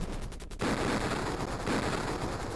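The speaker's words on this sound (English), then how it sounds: "It has what's called a dual exploding warhead." Hellfire missile warheads detonate in the Jungle Strike video game, each with a dual exploding charge. A sudden burst of dense, loud, crackling blasts follows a brief quieter moment and keeps rolling with a second swell.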